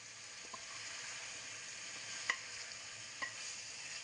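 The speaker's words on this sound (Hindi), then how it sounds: "अब हमने 2 से 3 मिनट इस मसाले को डालकर हमने मिक्स करना है अच्छे से।" Achari masala spices are stirred into a pan of mixed vegetable pickle over a steady, faint sizzle, with a few soft spoon clicks against the pot, close and without talk.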